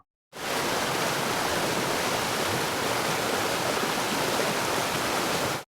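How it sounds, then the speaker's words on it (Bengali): A strong, muddy river current rushes at Bholaganj Sada Pathor in Sylhet after a night of heavy rain, a loud, unbroken roar that starts abruptly and holds steady throughout, with no voices. "পানিতে যে ভয়ানক স্রোত, দেখুন কি অবস্থা"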